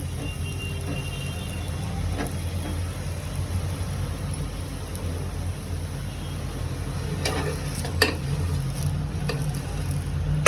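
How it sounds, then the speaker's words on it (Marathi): An onion paratha roasts on a hot griddle, giving a steady low sizzle and crackle throughout with a few brief sharper clicks and taps, close and even, with no speech. "सर्व बाजूनी चांगलं शेकून घेते मी आपल्या पराठ्याला"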